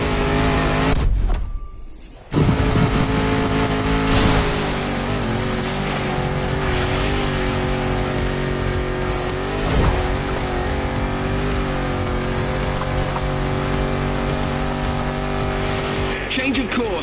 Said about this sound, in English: This Defender is like an old-fashioned rugby player. 400 horsepower under a 70-year-old bonnet.